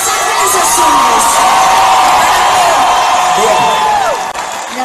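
A live concert crowd in Puebla roars, cheers and whoops, a dense, loud, sustained wall of shouting and applause with high voices rising over it throughout.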